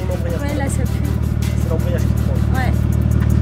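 A car revs in place during a static micro burnout, its engine a steady loud drone with a rough, throbbing tone throughout, while someone speaks over it.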